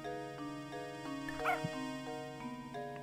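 A cartoon dog in the Professor Layton village adventure game gives a few short, bright yips and whimpers over a soft, steady musical background, fairly quiet and brief.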